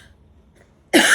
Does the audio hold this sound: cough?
yes